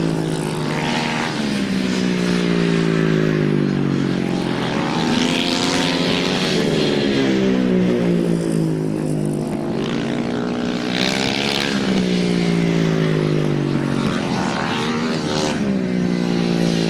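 Grasstrack racing motorcycles at a Cornwall grand slam meeting roar steadily as they come off a turn, a loud continuous engine drone with rising and falling pitch sweeps and no talk.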